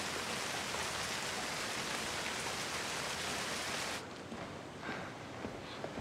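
Steady rain falls outdoors on a rainy day, a dense close hiss that holds evenly and then softens abruptly into a lighter patter with scattered drops.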